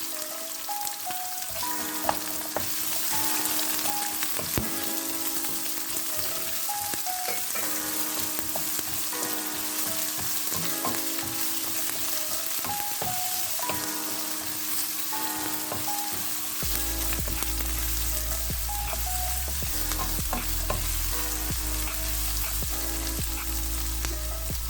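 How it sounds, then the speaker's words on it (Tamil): Onions sizzle and crackle steadily in hot oil in a pan with chillies for a prawn coconut milk curry, a continuous dense frying hiss with occasional stirring and no talk. "இப்போ வெங்காயத்தையும் சேர்த்துடலாம்."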